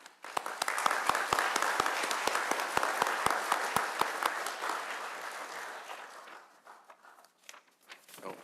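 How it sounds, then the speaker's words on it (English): A crowd at a diploma ceremony claps in sustained applause, dense and lively, with a few sharp individual claps standing out before it thins and fades near the end. "Yes, a round of applause."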